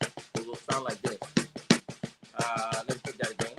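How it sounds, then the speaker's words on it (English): Rapid drum strokes in a steady stream of single hits with occasional accents, a fast triple paradiddle sticking pattern on a drum, close and dry. "And I take it to triple paradiddle."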